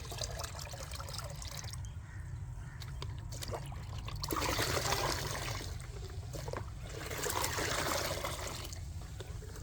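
Water is poured to dilute homemade liquid fertilizer, a close, steady splashing and trickling that swells louder at a couple of points, over a low background rumble.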